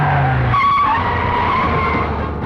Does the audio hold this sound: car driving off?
yes